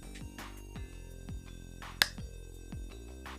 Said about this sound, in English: give me a clap test